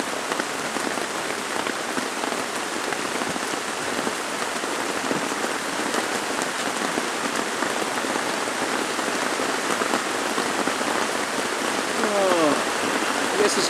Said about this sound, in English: Oh, I guess it's gonna rain some more.